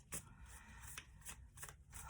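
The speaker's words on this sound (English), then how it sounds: "Let me shuffle the cards." Tarot cards being shuffled by hand, a series of quiet crisp riffles and slaps in uneven bursts, close but soft, with no one speaking.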